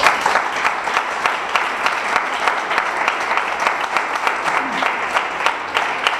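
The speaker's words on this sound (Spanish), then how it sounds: "Un aplauso." A parents' talk audience gives steady, moderately loud applause, a thick continuous clapping texture with occasional sharper claps and a faint voice underneath.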